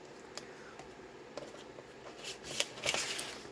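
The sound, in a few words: scissors cutting the flap off a Tyvek envelope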